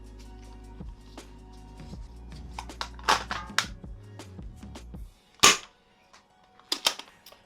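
A Nerf Rival Knockout Deceptor blaster is loaded with a slug and fired, sharp close snaps and clacks of the mechanism followed by a loud pop, then a few more clicks, with no talking.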